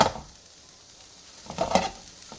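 Rice is stir-fried in a pan for egg fried rice: a short sizzle and scrape at the start, a quiet lull, then a livelier burst of stirring and frying near the end, close up and without talk.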